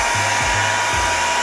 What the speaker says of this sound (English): but I like to speed it up a little bit with a hairdryer.